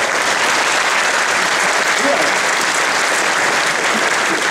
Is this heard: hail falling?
no